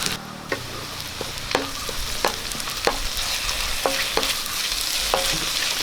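Spoonful of ginger garlic paste frying in a pan for a chicken curry, a constant loud sizzle with repeated scraping clicks of a spoon stirring through it, no voices.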